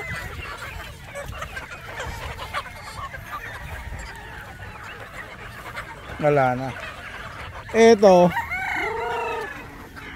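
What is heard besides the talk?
chickens clucking and rooster crowing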